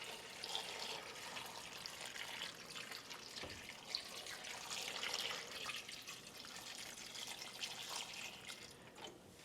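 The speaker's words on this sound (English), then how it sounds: "then I'll fill the water, and it kind of washes the seasonings down into the water" Water runs steadily into a cooking pot of peanuts and seasonings for boiling, a continuous splashing rush with faint dripping, nearby and fairly quiet, no voices.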